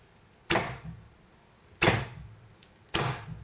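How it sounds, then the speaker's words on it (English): A fully silenced recurve bow with an ILF limb system is shot three times in a row. Each release makes a short, sharp thump-and-snap, spaced about a second apart, close by, with a quiet room between the shots. "now I want to test my own bow, which is fully silenced"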